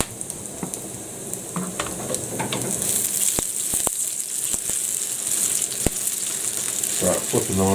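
Ham and sausage frying in a pan, a steady close sizzle with scattered stirring clicks and taps throughout, a brief louder burst of spitting near the end.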